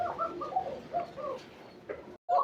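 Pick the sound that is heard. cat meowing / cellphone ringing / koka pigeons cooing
koka pigeons cooing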